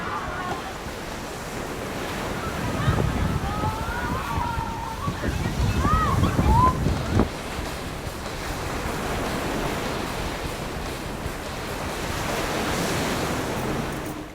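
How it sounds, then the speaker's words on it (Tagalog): Steady roar of surf with waves washing and breaking, wind buffeting the microphone throughout; a voice talks faintly over it in the middle. "sunod-sunod na ang paghampas ng alon"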